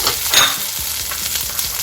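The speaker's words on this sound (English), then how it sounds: "I'm going to add a little bit of oil and just fry my garlic and my green chilies and garlic on high flame" Garlic and green chilies frying in oil on a high flame, a loud, dense, close sizzle that stays constant, with light scraping of stirring throughout.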